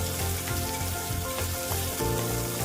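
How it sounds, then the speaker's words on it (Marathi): Onions sautéing until brown for kanda pohe, a dense, loud, continuous sizzle with faint stirring clatter throughout. "आता हे सर्व आपण कांदा परतून घेऊन थोडासा ब्राऊन कांदा होऊन द्यायचा।"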